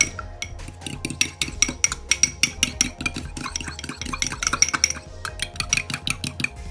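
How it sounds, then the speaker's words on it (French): A whisk beats egg briskly in a bowl for a pâtissier custard flan, a rapid, steady clinking and scraping of metal against the bowl that runs close and loud throughout, with no voices. "On va venir le casser et on va venir fouetter."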